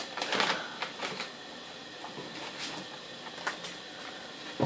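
A piece of 180 grit sandpaper torn off by hand in short, quiet, crackly bursts spread over a few seconds, with no talking.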